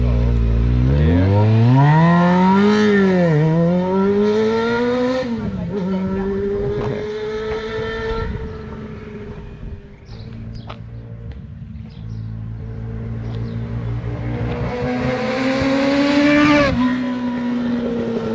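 A Kawasaki Ninja 600 motorcycle engine revs hard up close, rising and falling in loud throttle blips before settling into a rough idle, then climbing again in another rev, with faint talk underneath.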